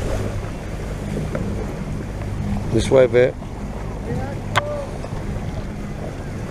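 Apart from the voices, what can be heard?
waves hitting a small boat while driving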